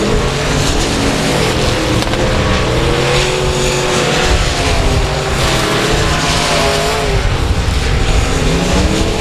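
Race cars roaring around South Texas Speedway on the final lap, a loud, continuous engine howl with several cars passing close and overlapping in pitch, crowd-level din throughout.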